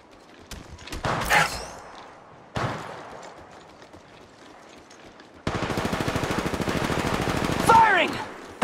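Gunfire in Apex Legends Mobile: short bursts of shots early on, then a long sustained rapid-fire automatic stream lasting several seconds, loud and close, with rhythmic pulsing shots.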